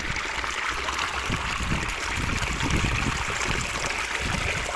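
Water flows steadily through a rice field at the start of the rainy season, a continuous close trickle and rush with no talking.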